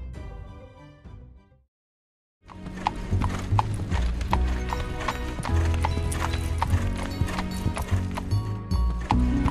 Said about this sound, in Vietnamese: Đoàn xe ngựa kia đi đâu thế nhỉ?